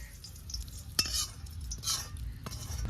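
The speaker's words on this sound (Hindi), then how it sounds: "ये तड़का ऐड कर देंगे दाल में" Hot tempering with ground red chili is poured into a pot of dal with a brief sizzle and bubbling, alongside stirring and faint clinks of a spoon against metal; no talking.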